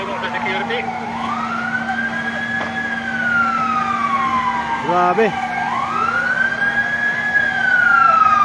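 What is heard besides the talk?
fire truck siren arriving at a house fire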